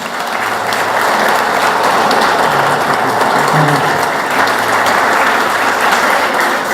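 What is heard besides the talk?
congregation applauding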